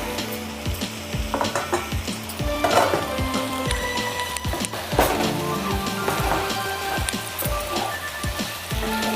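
Drumstick (munakkaya) pieces sizzling in a hot pan of masala curry, with a dense, crackling fry and repeated stirring clatters at close range, with no one talking.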